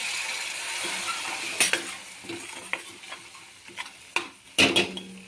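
Masala cooks in ghee in a pan for Khandeshi-style mutton curry, a low steady sizzle punctuated by several sharp spoon-against-pan stirring clanks, close and fairly loud.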